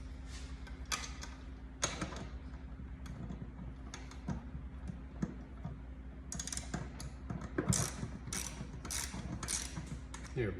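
Fastener being loosened on a Temu creeper seat during assembly, heard as a run of small clicky, ratcheting mechanical ticks at close range, spaced irregularly over a steady low hum.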